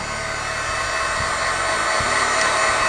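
A heat gun blows hot air to dry a craft project, a loud, steady close-up whoosh with a few faint bumps beneath it.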